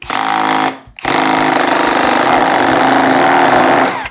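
A SKIL PWR CORE 12 cordless auto hammer (AH6552SE10) drives a nail with loud, rapid mechanical hammering, a short burst, a brief pause, then a longer sustained run of fast impacts, heard close and alone.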